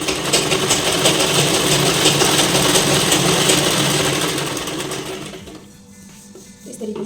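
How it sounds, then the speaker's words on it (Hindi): Sewing machine stitching tucks in blouse fabric, a fast steady mechanical whirr running for about five seconds, then slowing and stopping before a brief restart. "इस तरीके से सिल देंगे।"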